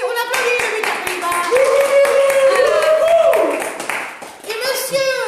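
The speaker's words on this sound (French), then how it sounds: "Et on applaudit le 8 RPIMA." Applause from an audience at a show in Castres honoring a French marine infantry regiment, a dense patter of many clapping hands sustained near the listener, with a sustained voice tone and some chatter over it.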